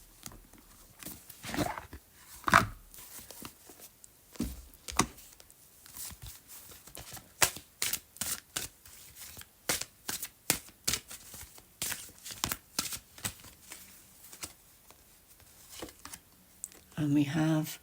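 A deck of Wisdom of the Oracle cards is shuffled: soft riffles and flicks, then a long run of rapid, regular papery slaps close by. A voice talks intermittently over the shuffling.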